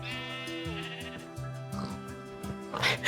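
Sheep in the Minecraft video game give a few short bleats over steady, tonal game music, rising to a louder burst near the end.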